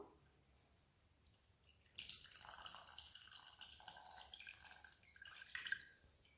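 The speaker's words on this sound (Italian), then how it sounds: "Ora verso l'acqua" Water is poured into a small saucepan holding sugar and cornstarch, a soft splashing trickle that starts after a quiet moment and carries on faintly and unevenly, close by.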